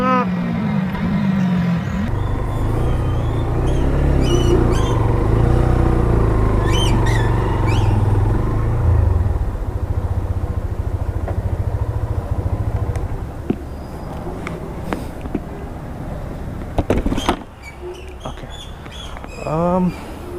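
A Hero Xtreme 125R 125cc motorcycle engine hums steadily while riding, mixed with road and wind noise. Someone talks over it throughout, and brief clicks and a passing rush break in near the end.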